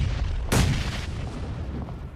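Grenade explosions in a battle royale video game match, one sharp loud boom that decays into rumbling battle noise.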